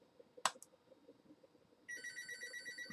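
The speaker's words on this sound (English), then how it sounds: "Phone's ringing." A telephone rings indoors, its electronic bell trill starting after a brief click and continuing steadily, faint and alone with no talking.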